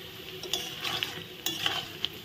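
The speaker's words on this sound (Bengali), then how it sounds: "প্রথমে এগুলো এই তো সুন্দর লাল লাল করে ভাজা হয়ে গেছে, এখন তুলে নিচ্ছি।" Raw banana koftas fry in oil in a pan, a constant close sizzle with scattered metallic scrapes and clinks from stirring and lifting them out.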